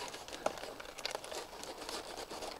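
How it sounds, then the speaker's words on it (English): A knife slices off the root mass of an old hydroponically grown cabbage, giving a soft, steady crunching and crinkling texture with a few sharper snaps, fairly faint and close. "I'll go ahead and cut this off."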